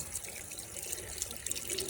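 Water rushes and splashes steadily at a forest waterfall in Kerala where people have waded in, a continuous close hiss with small bright splashes.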